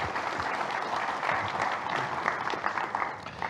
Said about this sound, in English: I think you guys all deserve a round of applause